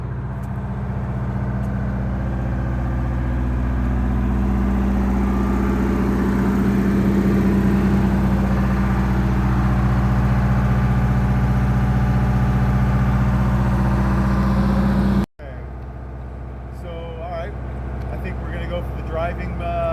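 A 1963 GM PD4106 bus engine runs steadily and close, a dense low rumble with a brief break near the end before it resumes.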